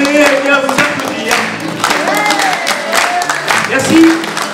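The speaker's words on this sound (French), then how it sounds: "Vous pouvez bien vous applaudir." Audience at a neighbourhood community show by local residents applauds steadily for about four and a half seconds, a loud continuous wash of clapping with voices and cheers mixed in.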